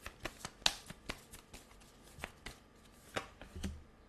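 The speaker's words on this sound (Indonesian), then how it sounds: "Aku akan shuffle satu lagi dari deck yang satu lagi." A deck of cards is shuffled close up, a quick run of crisp riffling flicks and soft slaps in an irregular rhythm, with no talk over it.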